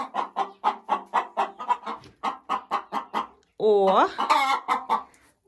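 A hen in a laying coop clucks in a rapid, steady series of short loud calls, breaking into a louder drawn-out squawking cackle near the end, with a brief exclamation from a woman.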